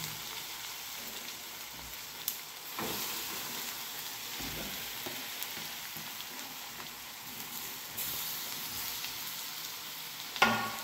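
Beetroot frying with onions and tomatoes in a pan, a steady close sizzle with occasional scrapes of a stirring spoon, no talking.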